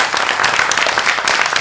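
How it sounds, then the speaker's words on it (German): Warm, dense applause from a premiere audience greets a filmmaker at a world film premiere, loud and continuous throughout the short burst. "Bitte einen warmen Applaus."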